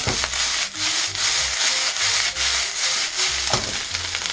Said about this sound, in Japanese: ではこう塊を潰しながら炒めていきます